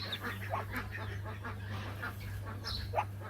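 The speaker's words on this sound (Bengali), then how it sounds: "আর এগুলো হচ্ছে আপুর হাঁসের বাচ্চাগুলো," Ducklings kept at a village home give faint, scattered high peeps over a steady low hum, with soft rustling in the background and no clear talking.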